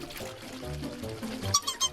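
Cartoon water pouring onto dry ground on a parched planet, a steady liquid rush with gurgling, followed by a few brighter splashy bursts near the end.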